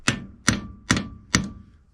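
Four sharp, evenly spaced hammer blows ring on a hardened grade 8 steel rove punch used for plank riveting, each a bright metallic strike with a short decay, close and clear with no talk.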